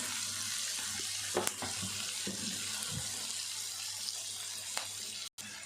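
Ivy gourd frying in a pan with a constant close, even hiss of sizzling oil and a few faint clinks over it.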